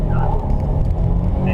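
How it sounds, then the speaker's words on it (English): A 2013 Buick Verano idles at a standstill and then takes a couple of blips of revs, giving a deep, steady engine rumble that stays close and loud. "Put it in first, give it a couple of revs,"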